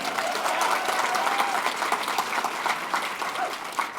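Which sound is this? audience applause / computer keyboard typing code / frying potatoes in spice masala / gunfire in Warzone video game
audience applause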